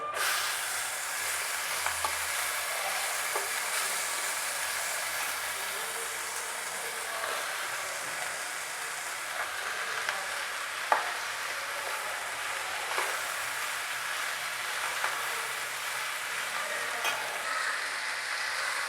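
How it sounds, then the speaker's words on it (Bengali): Steady sizzling hiss of teasel gourd frying in a frying pan with turmeric, with occasional soft scrapes and clicks of stirring throughout. "কাঁকরোলগুলো আমি ফ্রাই প্যানে ঢেলে দিয়েছি এখন ভালোভাবে নেড়ে দিচ্ছি"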